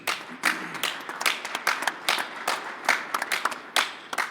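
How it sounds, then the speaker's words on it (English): An audience at a Grand National friction call championship breaks into applause, a lively burst of hand clapping with a close uneven rhythm of individual claps, moderately loud, no talking. "Please give a big round of applause,"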